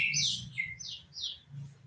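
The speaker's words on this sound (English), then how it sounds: "Hear that bird out there?" An Indian myna calls outdoors, giving a short run of four or five bright, squeaky chirps at moderate distance over a low background hum.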